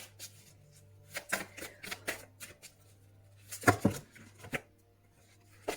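Tarot cards being shuffled by hand in several short, crisp riffling bursts separated by pauses, close and fairly quiet, with a steady low hum underneath.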